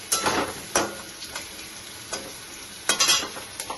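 Onions sizzle and fry in a pan on a taro-stolon curry stove, with a few sharp scraping stirs of a spatula breaking through the steady crackle, close and moderately loud.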